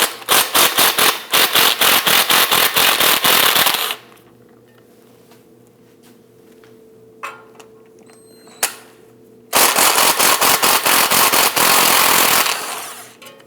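Rapid ratcheting bursts from a wrench loosening the 13mm ball joint bolts on a 2001-2009 Volvo S60 front knuckle, two loud runs of clicks separated by a quiet pause with a few faint metallic taps.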